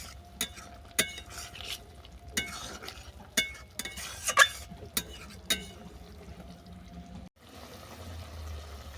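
Stirring a fish and kundru (ivy gourd) oil curry with small khoira fish in a pan, a series of sharp scraping clinks of the utensil against the pan over a soft sizzle, then a brief quiet stretch.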